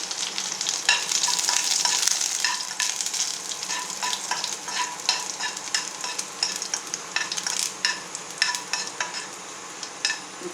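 Curry leaves crackling in hot oil in a tempering for Tamil pepper rasam, with dense continuous sizzling and sharp popping bursts throughout, close and steady.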